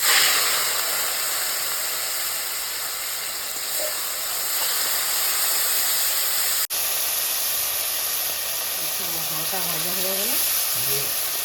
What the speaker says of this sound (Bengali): এবার চিংড়ি মাছ কটা দিয়ে ভেজে নেব